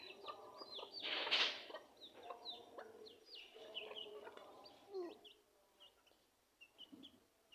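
A handful of home-kept chickens cluck softly while being fed rice mixed with broken grain on a foggy winter morning, with scattered short clucks and one louder squawk, faint and fairly close.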